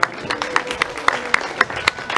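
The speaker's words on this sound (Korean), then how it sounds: "다시 한번 큰 박수 부탁드립니다." Wedding guests clap as a bride enters a traditional ceremony hall, scattered uneven claps with sharp individual peaks, moderately loud, a faint voice or music tone beneath.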